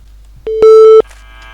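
Electronic mobile phone ring from the horror video game Shadow of Pharos: a short burst of bright, steady synthetic tone pulses, loud and close, alone in near silence.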